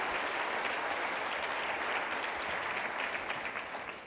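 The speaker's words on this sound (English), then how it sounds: "Give yourselves a big round of applause, a big round of applause right now" A motivational-talk audience applauds themselves on cue, a steady, sustained wash of many hands clapping in a large room, tapering slightly at the end.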